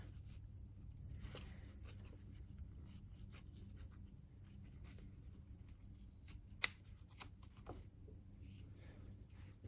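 Scissors snip through a picture frame flange border in quiet, close, light cutting strokes, with one sharper snip standing out near the end over a low steady hum.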